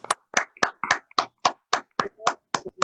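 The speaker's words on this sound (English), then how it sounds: "We were thinking about some synthetic clap, but you have done us the real clap." Real hand clapping at an IEEE TENSYMP 2020 inauguration ceremony: about eleven distinct, evenly spaced claps, sharp and close, from what sounds like one or a few people, with no voices over them.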